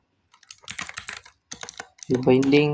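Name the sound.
typing code on a computer keyboard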